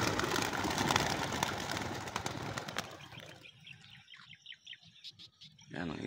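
Racing pigeons burst from a training box in a loud flurry of flapping wings that fades into scattered chirps and coos, with a voice speaking nearby.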